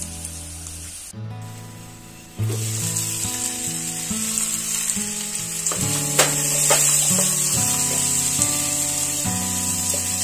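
Onion and capsicum cook on a medium flame in a covered pan for a Rajasthani malai pyaz sabji, giving a steady, bright sizzle that continues throughout under prominent background music.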